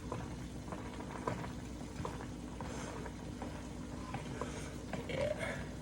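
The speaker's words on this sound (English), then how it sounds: "when I see it boiling, I turn it down a little bit" Hamburger Helper boils in a pot on the stove with a faint, continuous low bubbling and light scattered ticks and pops throughout, with no voices.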